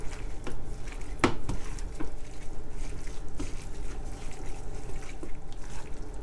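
Beef pieces stirred in a bowl with Shaoxing cooking wine and cornstarch, close wet clinking and sticky squelching that runs steadily, with one sharper knock near the start and no talking.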